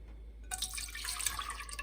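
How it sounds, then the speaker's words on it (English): A cup of milk poured into a saucepan on a stove, a soft liquid splash and trickle that begins abruptly and carries on steadily for a second or so, close by. "Bring your stove to medium heat and add 1 cup of milk to the pot"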